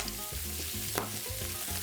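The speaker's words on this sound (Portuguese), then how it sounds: "a gente está selando a carne antes de colocar ela no cozido" Meat sears in a pot for feijoada, a steady loud sizzle and crackle of frying pieces with faint stirring, no voices over it.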